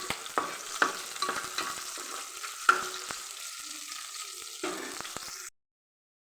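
Mustard seeds, cumin, green chillies and curry leaves sizzling in hot oil, a crackling spatter with sharp pops and utensil taps that settles and then cuts off abruptly, no talking.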